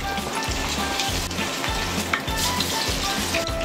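Battered pork ribs for Cantonese sweet and sour pork sizzle and crackle steadily in hot oil, a dense, continuous frying hiss with small pops, close and unbroken, no voices.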